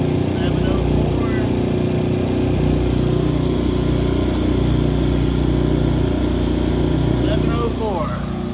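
Two iPower SUA2300i inverter generators with about 700 hours of use idle side by side in a constant, even mechanical hum, loud and close, with no change in pitch.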